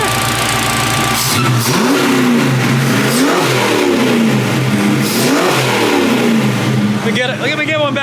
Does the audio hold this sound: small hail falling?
no